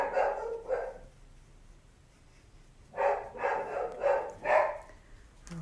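A dog barks in two bursts, a pair of barks at the start, then a quiet gap before a run of four or five louder barks near the end, heard indoors during a makeup session.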